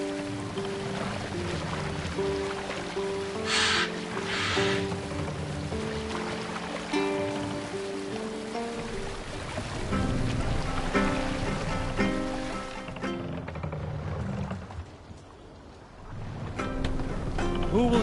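A sailing ship glides over open water in Assassin's Creed Valhalla, with a steady wash of waves and wind, a couple of brief hissing gusts, and sustained tonal sounds layered over it.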